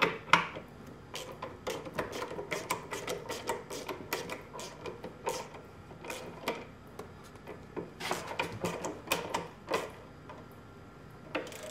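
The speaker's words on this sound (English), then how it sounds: "it's a half inch bolt on a ratchet so it's just gonna, it's gonna press the jack from the backside" Ratchet turning a half-inch bolt to drive the jack of a cider press, heard as rapid, uneven bursts of sharp clicking and ticking up close, with short pauses between strokes and no talking.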